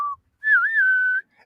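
A single Western-style whistled tune, a tumbleweed-moment imitation, opens with a short note and then moves into one sustained, gently wavering note that lasts under a second. It is clear and close, with no talking.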